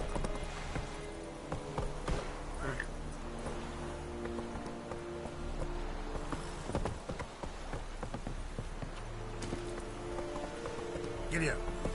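Hooves of Roach, a horse in Witcher 3, clip-clopping at a run under steady game music and ambient noise, with a voice speaking over them.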